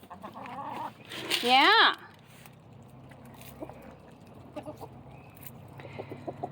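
Chickens cluck near their coop beside a camper, with one loud rising squawk early on, then scattered softer clucks and calls close by; a person briefly says a word.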